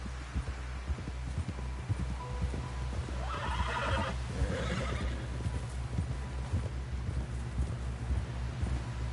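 A horse in Red Dead Redemption 2 gallops with rhythmic hoofbeats and lets out a loud whinny midway, over a low steady hum from the game.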